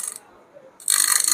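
An air cooler's small water pump motor whirs briefly, goes quiet for a moment, then starts again with a louder, rattling mechanical hum.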